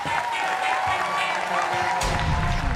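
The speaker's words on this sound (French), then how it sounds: "Je pense que ça s'applaudit très fort, s'il vous plaît." An audience in a large 1500-seat hall at the Palais de la Culture de Treichville breaks into applause and cheering, which swells into a louder, fuller burst of clapping partway through.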